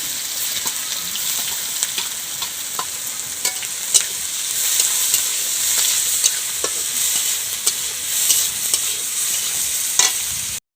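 Cumin seeds crackle and sizzle in hot oil with onion going in for an egg dish, a steady close frying hiss broken by repeated scrapes and clicks of a stirring spoon.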